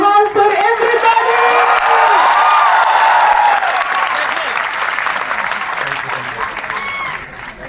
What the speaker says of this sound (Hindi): प्लीज वेलकम जोरदार तालियों के साथ मिस्टर विजेंद्र चौहान सर